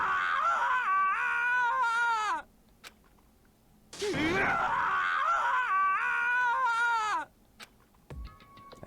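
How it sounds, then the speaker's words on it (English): A video game character from Danganronpa lets out two long, loud, sobbing screams with wavering pitch, separated by a short pause. A brief faint sound follows at the end. "As Taka's sad screams invaded our skulls"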